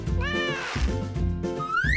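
A cat meows, a couple of close, clear, drawn-out calls with rising and falling pitch over about two seconds.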